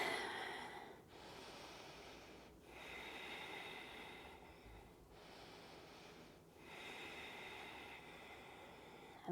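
Slow, steady breathing during a yoga stretch for a stiff back: long, soft airy inhales and exhales in a relaxed rhythm with brief pauses between them, quiet and close with no talking.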